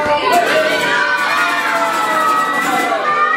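A crowd of children at a village hall storytelling session shouts together in a loud, ragged chorus of high voices that swells and trails off over a few seconds.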